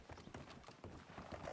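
Horse hooves clip-clopping in the Red Dead RP video game, a quick, steady run of hoofbeats on hard ground, close and fairly faint.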